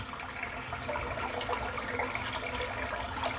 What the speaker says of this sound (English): So put a bit of water in the sink.